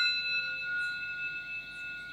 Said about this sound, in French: j'ai plutôt choisi le bol tibétain qui va nous permettre d'ouvrir la cérémonie